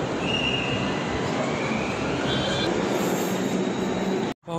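Delhi Metro train in the underground station at Kalkaji, near Nehru Place, running loud and close: a dense continuous rumble with a high wheel squeal, no talk, broken by a brief dropout near the end.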